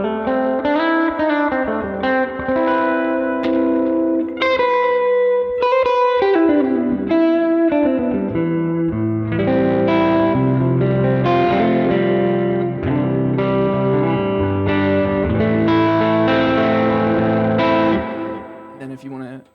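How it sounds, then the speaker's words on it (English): Electric guitar runs through a delay effect on a Line 6 HX Stomp with a psychedelic surf and spaghetti western tone, playing reverberant, echoing notes and chords with distortion in a steady phrase for about twenty seconds, loud and close. "footswitch 4 rather, is going to be a delay"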